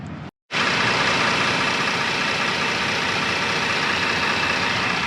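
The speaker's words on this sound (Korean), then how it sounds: "시동을 걸어보겠습니다." A 2014 Hyundai Genesis DH sedan's engine cuts out for a moment and then settles into a steady, close, even idle hum with no voices.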